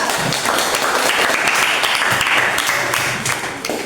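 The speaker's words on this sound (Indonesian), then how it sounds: "Beri aplaus untuk mereka." An audience claps in sustained, dense applause for about four seconds, fairly close and loud, tapering slightly at the end.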